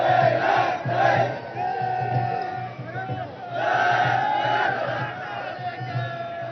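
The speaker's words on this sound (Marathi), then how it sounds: "मराठा पोलीस- आंदोलकांची गर्दी झाली आहे" A crowd of Maratha protesters gathered at CSMT in Mumbai, a dense rumble of many voices with rising shouts and cheers swelling in waves, steady and close throughout.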